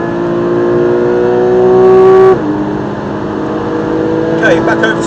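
A race car engine on the Silverstone circuit is heard close up from inside the cockpit, with a strong rising whine as it accelerates and then a gear change partway through, loud and continuous throughout.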